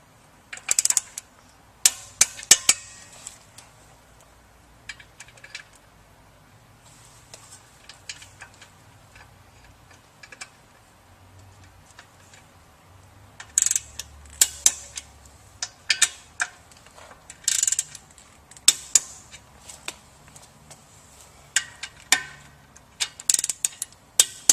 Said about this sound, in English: we'll go ahead and torque down the motor bolts.